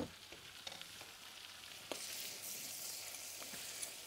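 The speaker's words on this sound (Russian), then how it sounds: "Вот пока, видите, греется масло с мукой." A quiet, steady sizzle of butter and flour heating gently in a pan, with occasional soft clicks and a louder hiss midway through.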